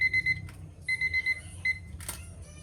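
A kitchen timer alarm goes off in a home kitchen while homemade ham and cheese pizza bakes. It gives repeated rapid bursts of bright electronic beeps, fairly loud, over a low background rumble, then stops.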